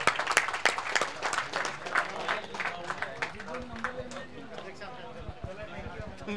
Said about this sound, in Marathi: टाळ्या वाजवा एकदा जोरदार